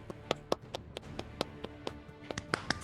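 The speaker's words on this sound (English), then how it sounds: "Round of applause again for Jake, please." A small audience claps for Jake in a sparse, uneven patter of separate hand claps, faint and fairly close, with no talking over it.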